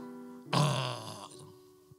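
A voice imitates a loud, drawn-out burp of about a second, the kind heard after eating at a roadside food stall, rising abruptly from a quiet room tone and fading out.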